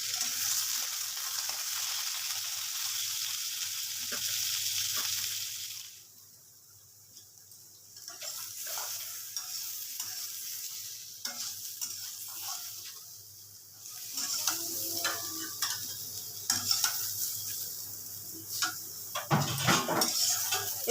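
Boiled jackfruit and potato fry in a little oil in a pan, a soft sizzle under repeated scraping and clinking of a spatula against the metal as they are stirred, with quieter pauses between bursts.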